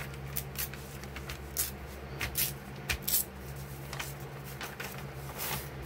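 Thin library-card pockets and paper ripped up by hand for a junk journal, a series of close, brisk tearing strokes in quick succession over a low background hum, no talking.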